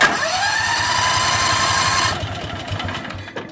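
A Predator 670cc engine fitted with a new fuel pump is turned over, the starter cranking steadily and loudly in a fast, even rhythm without catching, then cutting off and leaving a quieter mechanical hum.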